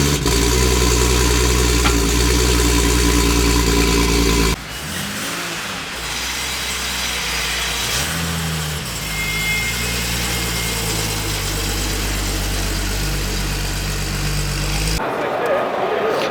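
A 1994 Nissan Skyline R32 GT-R engine hums steadily, shifting pitch as it moves, with a brief louder idle at the start and no voices.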